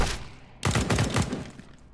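Rapid gunfire in Counter-Strike: Global Offensive, a loud burst of shots crowding together after a brief quieter lead-in, then tapering off toward the end.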